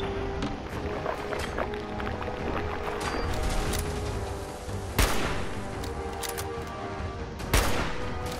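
Weapon gunfire in Fallout 4 with power armor, a rapid, steady fusillade of shots punctuated by two sharp, louder blasts, heard throughout at moderate distance.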